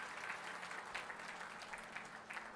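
An audience claps for a sponsor at a live event, a faint, dense patter of applause continuing steadily without a break.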